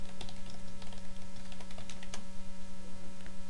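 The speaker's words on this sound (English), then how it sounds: "We simply click Text and type in a new message." Keys tapped on a computer keyboard while a message is entered, irregular light clicks over a steady electrical hum, no voices.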